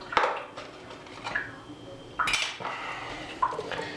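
Clinks and clatters of a metal can and kitchenware while canned mushrooms are drained in a home kitchen, several sharp separate knocks with quiet gaps between, close and alone.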